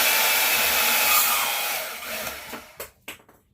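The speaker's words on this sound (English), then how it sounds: "I'm going to cut the brass valve off." A saw cuts a brass valve off a short 1-inch length of number 2 copper pipe. It makes a steady, loud, close hissing rasp that fades after about two seconds and then breaks into a few short scraping strokes.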